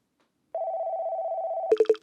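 A steady electronic tone sounds for about a second, then breaks into a few quick beeping pulses, like a phone line ringing, close and clear.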